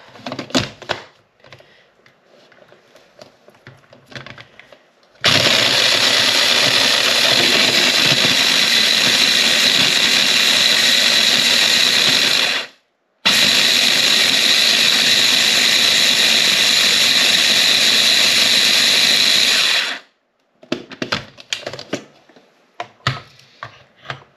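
A small food processor whizzes scotch egg ingredients in a steady, loud motor whir lasting several seconds, briefly stopping and restarting, with quieter kitchen clatter before and after.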